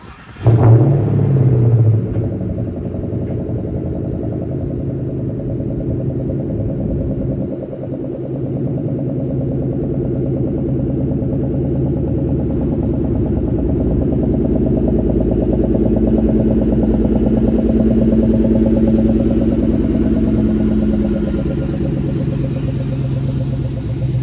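A 2003 Ford Mustang Mach 1 idles, then rolls out of a garage with a deep, steady V8 rumble that swells slightly as it moves, close and loud throughout.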